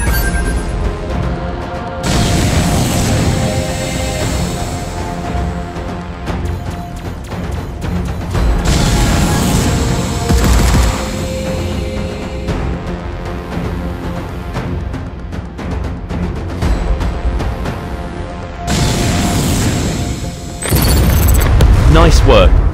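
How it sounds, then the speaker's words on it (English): Missiles launch and blast in the space shooter Phantom Galaxies, heavy booms and explosions rolling in loud waves under game music, while a narrator's voice talks over the action. "Your missile ability fires a missile that tracks towards your locked target."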